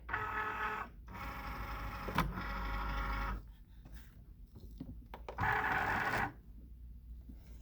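A craft cutting machine pulling cardstock through its feeder, a close mechanical motor whir that runs steadily, pauses, then whirs again in short bursts.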